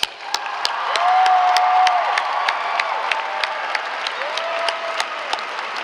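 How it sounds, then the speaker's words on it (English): A large crowd at a high school graduation ceremony applauds the graduates' supporters, dense sustained clapping with scattered sharp claps and a few cheers, loud and close throughout. "Please take a moment to honor them with your applause."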